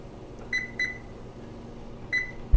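An oven control panel gives three short, clear electronic beeps, two close together and one later, while the temperature is set to 325, with a low kitchen hum behind them.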